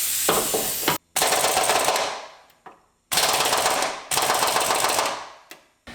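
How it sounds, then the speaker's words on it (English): A pneumatic air impact gun hammers at the front subframe bolts of a Mitsubishi Evo 8/9, in loud, close, rattling bursts of a second or two each, separated by brief silences. "so the air gun failed again"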